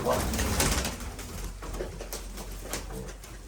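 Bukhara pigeons, breeding stock brought from Hungary, Serbia and Bulgaria, coo softly and repeatedly at close range amid a steady background hum, with faint voices now and then.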